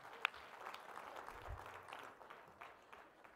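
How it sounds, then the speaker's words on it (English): Applause at a gala fundraiser's live auction greets the winning bidder coming up for the presentation of a bat, a soft, steady wash of clapping from a crowd at some distance, with one sharp clap near the start. "Let's give them another big round of applause."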